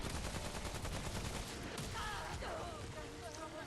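Rot bombardment attack raining down in the video game Remnant: From the Ashes, a dense, continuous barrage of loud impacts and blasts with streaking high whooshes across the scene.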